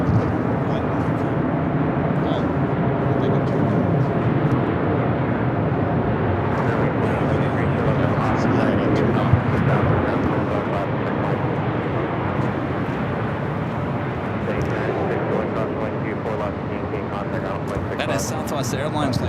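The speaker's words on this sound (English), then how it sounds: "We got that Norse Dreamliner heading up here" A Norse Atlantic Boeing 787 Dreamliner climbs out from Los Angeles International Airport, its jet engines a continuous roar at steady strength, with a person talking over it throughout.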